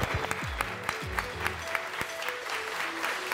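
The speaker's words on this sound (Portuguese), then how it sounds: "Uma salva de palmas, tá?" Applause from an audience at a business event on going digital, a steady patter of hands with a few sharper claps, fairly distant, while deep voice-like tones and murmurs run beneath it.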